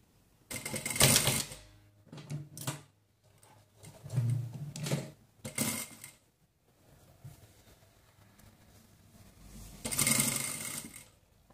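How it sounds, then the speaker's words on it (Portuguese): A sewing machine with a presser foot stitches a cloth diaper in several short whirring bursts separated by pauses, fairly close and moderately loud, with no talking. "eu venho passando a costura aqui com um pezinho de máquina"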